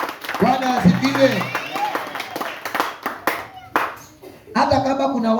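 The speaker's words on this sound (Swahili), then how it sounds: "Tupigie wamama makofi na kelele." A church congregation at a Sunday service claps for the women in scattered, uneven bursts, with talking and a voice mixed in.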